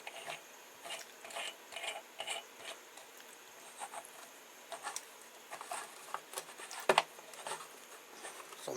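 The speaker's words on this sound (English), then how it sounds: "I'm using this nut to tighten up and push this bearing into this recess" Quiet ratcheting clicks and light metallic scraping as a nut is turned to press a bearing into a recess on a multi-blade shredder, close by, with one sharper clack near the end.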